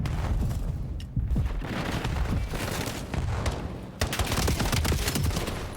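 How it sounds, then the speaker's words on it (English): Pistol shots in a Call of Duty match pop among dense battle noise, with several sharp cracks and booming impacts layered over continuous background gunfire. "Clean pistol shots there."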